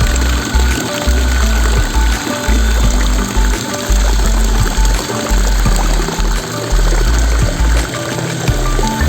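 Water pours steadily into a tank of fingerling fish, a loud continuous splashing close by with low bubbling thumps pulsing underneath throughout, and no voices.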